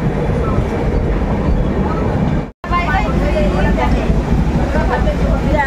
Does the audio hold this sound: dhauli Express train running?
yes